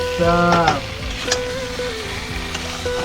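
Chicken leg pieces drop into hot, spicy masala frying in a pan, sending up a steady close sizzle with a brief louder burst at the start and a few light clatters from stirring.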